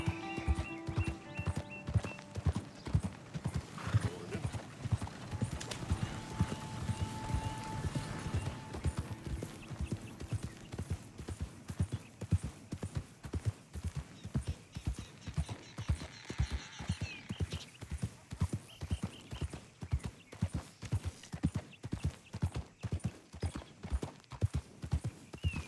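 Hooves of a horse in Red Dead Redemption 2 clip-clop in a steady, even walking rhythm, fairly close and clear, continuing throughout over faint background game ambience.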